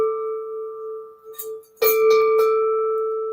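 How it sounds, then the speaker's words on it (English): A bell rings with a clear sustained tone, then is struck again more loudly, its ringing lingering and slowly fading. "Wait, we need the bell."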